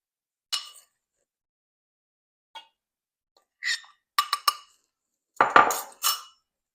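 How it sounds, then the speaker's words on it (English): Apple pie bread batter stirred in a bowl, a handful of brief, sparse clinks and scrapes of a utensil against the bowl separated by silence, growing slightly busier toward the end. "And stir that and combine that batter."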